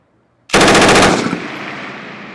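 A U.S. Marine M240B machine gun fires a loud, rapid burst of about a second after silence, followed by a long rolling echo that fades slowly.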